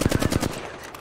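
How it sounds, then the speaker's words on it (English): Rapid automatic gunfire in Apex Legends, about eight close, punchy shots in quick even succession, then cutting off into a short ringing tail. "Shooting at me. They're firing."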